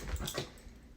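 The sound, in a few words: dog whimpering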